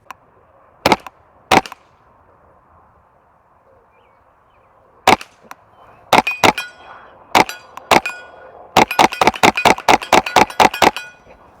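Suppressed .22 rimfire rifle with a roughly 16-inch heavy-contour threaded barrel, fired with CCI ammunition through an Anechoic X22 can at 25 yards: sharp, close cracks, first two spaced apart, then a rapid string of about fifteen shots.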